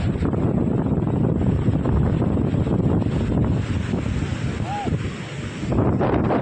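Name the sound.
windy seashore with waves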